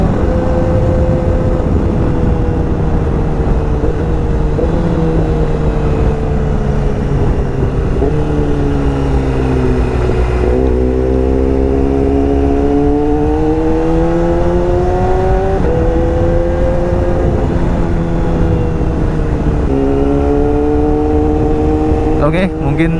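A Yamaha R6 600cc sport motorcycle engine runs continuously while being ridden, its pitch rising and falling through gear changes and throttle, loud and close with steady wind rush throughout.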